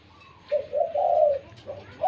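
A female dove cooing in a few soft, drawn-out phrases at close range, with short pauses between them and no talking.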